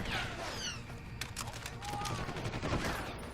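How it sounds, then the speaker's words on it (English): Gunfire from a bolt action rifle in the video game Deus Ex Human Revolution on Xbox 360, a few sharp shot bursts over a busy game soundscape. "Bolt action rifle."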